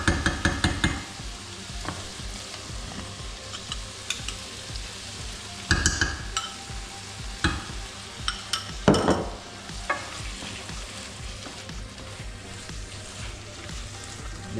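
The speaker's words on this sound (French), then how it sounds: "une bonne cuillère de sauce tomate. Et tu mélanges." A spoon stirs crème fraîche and tomato sauce warming in a pan, giving repeated scraping and clinking strokes over a low sizzle, with bursts of louder stirring at the start and middle, and no talk.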